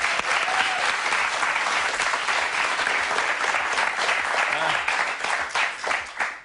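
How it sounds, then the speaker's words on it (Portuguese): A studio audience at a Portuguese late-night comedy show breaks into lively clapping, dense and continuous, with a little talk underneath, fading slightly at the end. "Palmas aí, vá lá."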